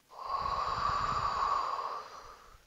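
A long, steady exhale during a reverse plank lift in a no-equipment thigh workout, close and breathy, rising quickly and trailing off over a couple of seconds with no talking.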